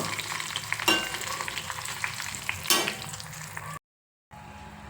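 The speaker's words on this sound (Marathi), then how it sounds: "छान असं आपल्याला कडक कडक होईपर्यंत तळायचं आहे सर्व" Food frying in hot oil until crisp, a steady close sizzle with two brief louder bursts of stirring, then a short silent gap before the sizzle resumes.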